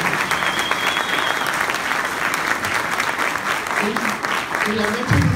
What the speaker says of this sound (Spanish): ¿Por qué no le damos un fuerte aplauso por todo lo que hemos escuchado?